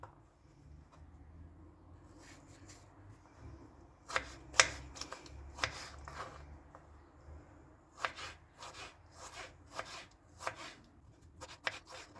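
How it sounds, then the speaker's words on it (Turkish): Peeled tomatoes being chopped into cubes on a board for a Turkish okra stew, a quiet series of irregular knife taps in bursts, close and alone with no talk. "Domateslerin kabuklarını soyup küp küp doğrayalım."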